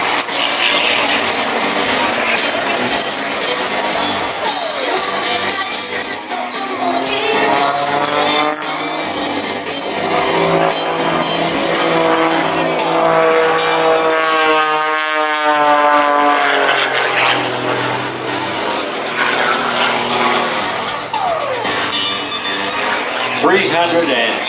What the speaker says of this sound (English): Rolling the aircraft to the left. Rolling it the whole time.